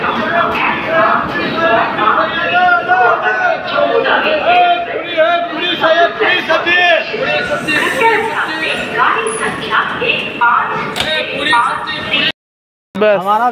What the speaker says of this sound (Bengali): এই দেখো ভিড়।